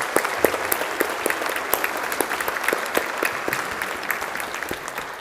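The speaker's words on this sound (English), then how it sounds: "Big round of applause" A church congregation applauds during a parish service at Bothwell Parish Church, a steady patter of many hands clapping at moderate distance that fades slightly at the end.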